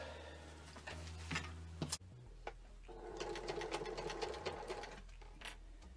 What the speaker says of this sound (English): So now I'll just sew this up.